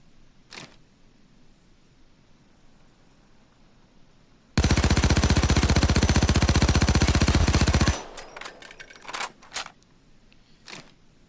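An FN P90 submachine gun fires one sustained full-auto burst of about three seconds in the video game Payday 2, loud and dense, followed by a few scattered mechanical clicks and a single shot, with no talking.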